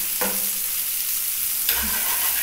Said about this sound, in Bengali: চিনি ফোড়ন দিচ্ছি